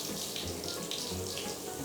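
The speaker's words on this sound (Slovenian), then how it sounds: "Sam da se voda teče." Water running from a shower tap and splashing across a floor into a drain, a steady even hiss without breaks, fairly faint and with no voices.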